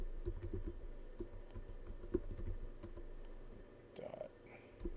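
A query is typed on a computer keyboard as a quick, close run of soft key clicks, thinning to a few scattered taps toward the end, with no one speaking.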